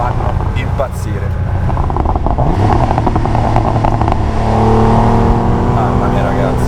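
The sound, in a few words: Porsche 911 Turbo 3.3 (930) engine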